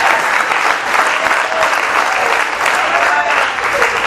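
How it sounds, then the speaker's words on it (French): A French-speaking church congregation applauds Jesus with thick, continuous clapping from a full room that holds at an even level throughout, with no pause. "Est-ce qu'on veut applaudir Jésus?"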